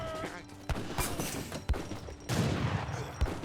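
Musket fire rings out in Age of Empires 3 as Hessian Jaegers engage dragoons, with several sharp separate cracks and a longer burst of volley fire amid the game's battle noise.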